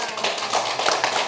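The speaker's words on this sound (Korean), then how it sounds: "박수 안 쳐?" A sermon audience breaks into a brief burst of scattered clapping, with a voice over it.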